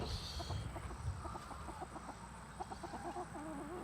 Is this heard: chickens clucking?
yes